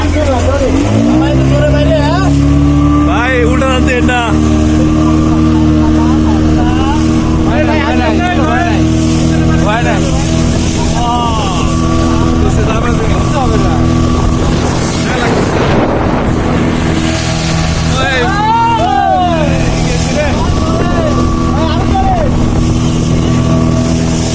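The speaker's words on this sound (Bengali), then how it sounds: "স্পিড বোর্ডে উঠে পড়লাম স্পিড চালু হয়ে গেছে" Speedboat engine droning loudly throughout a ride at a park in Natore, a steady low hum with heavy wind buffeting the microphone and voices calling out over it.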